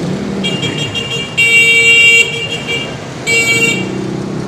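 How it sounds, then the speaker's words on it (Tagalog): Heavy, congested road traffic with a steady low rumble of engines and two loud, sustained car horn blasts, one long and one shorter, sounding close by. "So yan, grabing traffic to"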